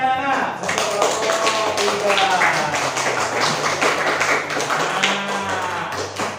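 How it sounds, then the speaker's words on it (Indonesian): Schoolchildren in a classroom clap together in a dense, overlapping patter that runs steadily throughout, with children's voices mixed in. "Berikan tepuk tangan anak-anak."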